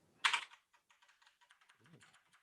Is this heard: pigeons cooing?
no